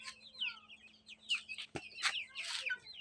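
Chickens walk about loose on a rooftop, one of the flock sick and shivering, and a few short clucks and squawks break out near the mic over a faint steady hum.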